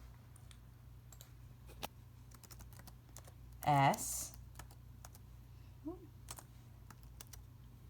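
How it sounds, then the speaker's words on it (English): Rapid tapping on a phone screen held in one hand, a steady scatter of light clicks over a faint background hum, with a brief spoken interruption midway. "Holding the phone with one hand and typing the other is tough."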